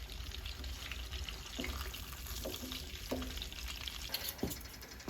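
Pork chops frying in a pan at a rustic campsite, a steady close sizzle and hiss with faint scraping or stirring clinks over it.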